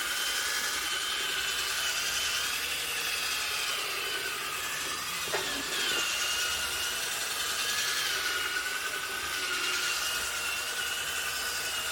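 A handheld drill turns a polishing pad slowly over a scratched, fogged plastic headlight lens on a Toyota MR2, giving a steady rubbing whir that runs unbroken and fairly close, with no talk.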